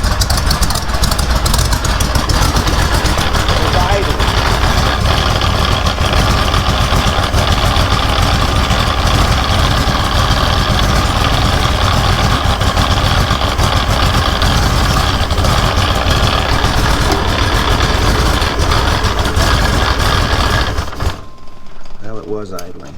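A truck engine idles loudly and evenly with a rough, chattering low rumble that runs nearly the whole time, then drops away abruptly just before the end.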